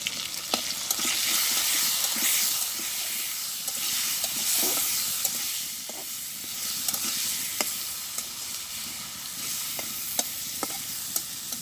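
Potatoes sautéing with salt and turmeric in a pan over a village cooking fire, a continuous loud sizzle and hiss with repeated scraping stirs and clinks from the spatula.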